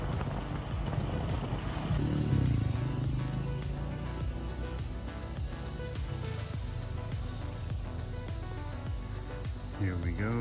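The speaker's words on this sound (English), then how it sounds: "After that, it's a short tricycle ride to the drop-off point." Motorized tricycle ride in the Philippines, a steady engine drone with road rumble and wind noise, continuous and close throughout, with faint talk now and then.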